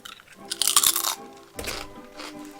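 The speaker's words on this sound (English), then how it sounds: "They got a nice crunch to them too." A few crisp, close-up crunches of Scandinavian potato chips come in short bursts, the first loudest, followed by two softer bites.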